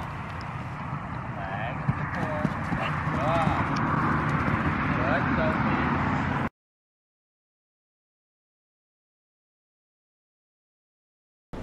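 Horses walk in a stable at night, their hooves clip-clopping under a steady wash of background noise for about six seconds before the sound cuts to silence.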